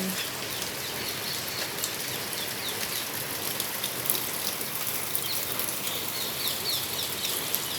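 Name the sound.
rain falling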